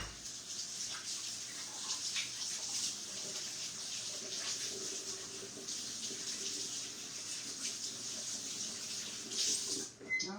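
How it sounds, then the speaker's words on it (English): Hands are washed beneath a running kitchen tap, the water streaming in a steady hiss with small splashing shifts as the hands move, quiet and close, ending with a brief change as the flow stops. "we are going to wash our hands"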